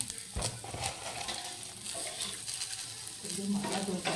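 Cinnamon, cloves and fennel seeds sizzling in hot oil, a continuous close crackle with occasional stirring scrapes, quiet overall.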